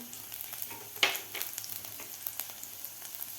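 Finely chopped garlic drops into hot ghee or butter for a soup, a soft, close sizzle with a brief louder burst as it hits the fat, then quiet crackling and a few stirring sounds.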